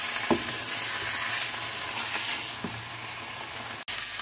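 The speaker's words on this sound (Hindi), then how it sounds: "कितनी अच्छी फ्राई हो गई ये पालक" Spinach and mutton fry in a pan for palak gosht, giving a steady bright sizzle with a few soft stirring scrapes and a brief clack near the end, no voices.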